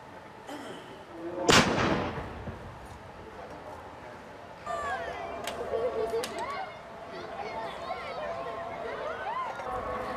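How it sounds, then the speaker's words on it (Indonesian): One loud, booming ceremonial cannon shot marking the breaking of the Ramadan fast rings out, followed by distant crowd noise, voices and scattered chatter. "suara tembakan meriam menjadi penanda waktu berbuka puasa"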